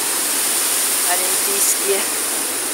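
Water rushes steadily in an Olympic park, a loud broad roar like a fountain or cascade running continuously under a woman's speech.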